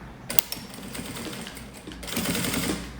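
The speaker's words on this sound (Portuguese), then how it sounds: "Eu vou pegar o meu forro e eu vou colocar ele aqui embaixo, tá? E vou costurar também." A sewing machine runs in continuous bursts, stitching the fabric lining of a rolled pencil case, its motor whir and rapid needle rattle steady and close, swelling louder toward the end with no voices.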